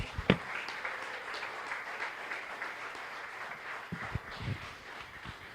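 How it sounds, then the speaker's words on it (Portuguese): A church congregation applauds in praise, sustained clapping from many hands in a reverberant hall, moderately loud and continuous with a few sharper claps near the end. "receba, Senhor, nossa salva de palmas a Ti"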